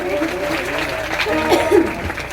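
An audience claps steadily in honour of music artists and teachers at a ceremony, the applause running throughout while a voice speaks over it.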